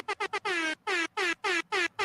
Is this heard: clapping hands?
no